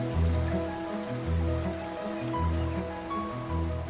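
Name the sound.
rain falling, water seeping from hills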